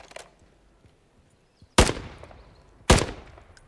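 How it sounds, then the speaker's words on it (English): In Call of Duty Modern Warfare 3, a faint early crack is followed by two loud, sharp gunshots about a second apart, each ringing out with a short decaying echo over quiet surroundings. "Shots fired."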